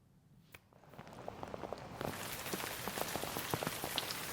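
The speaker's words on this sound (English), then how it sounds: "It is torrential rain outside" Torrential rain pours down outside, a dense steady hiss of drops striking surfaces that swells after a quieter start and continues loud and unbroken, with scattered sharper splashes and no voices.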